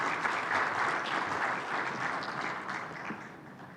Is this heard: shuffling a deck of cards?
no